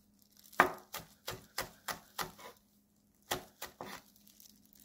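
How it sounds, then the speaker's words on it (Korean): A knife finely chops cheongyang chili peppers on a cutting board, giving a quiet, close series of about seven evenly spaced crisp taps, a pause, then a few more. "잘게 썰어요."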